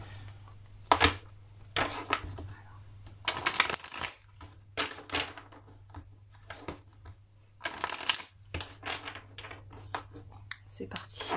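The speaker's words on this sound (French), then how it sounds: "on va mettre les cartes en place" Tarot cards being shuffled and laid out on a table, with repeated crisp riffling bursts and softer slaps in an irregular rhythm, close and quiet, while someone speaks softly in between.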